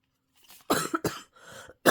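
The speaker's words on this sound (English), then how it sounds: "So if you hear me coughing, just don't mind me, okay?" A person who is under the weather coughs close to the microphone. Four harsh coughs come in quick succession over about two seconds, with no speech.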